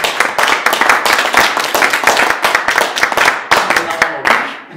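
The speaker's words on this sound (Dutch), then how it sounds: "Hier monteren we dus een groot applaus." A panel-discussion audience claps in a dense, loud burst of applause close by, with the rhythm of individual hands clearly audible before it thins out toward the end.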